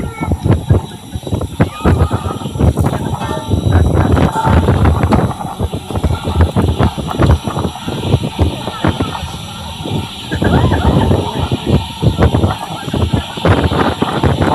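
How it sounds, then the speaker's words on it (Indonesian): Gusting wind buffets the microphone outdoors near the Prophet's Mosque in Medina, a steady heavy rumble throughout under frequent nearby talk. "Di luar sini angin mah."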